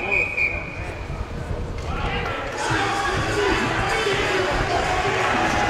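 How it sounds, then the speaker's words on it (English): Arena crowd at a varsity boys hockey game at Silver Lake, a broad roar of voices rising and swelling after a big body check, with crowd noise filling the rink and a voice talking over it. "You can just hear the crowd after that Hicks hit"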